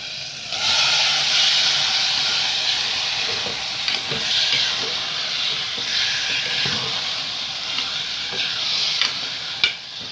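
Mutton dropped into hot masala in a pan for Madurai mutton kulambu sets off a loud, steady sizzle and hiss, with occasional stirring scrapes and pops, close up and continuous.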